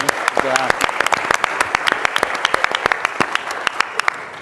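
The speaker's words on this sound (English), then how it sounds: "Give them a round of applause." Brisk applause breaks out at a meeting for a small group of named people, sharp claps close by and fairly loud, with voices talking over them.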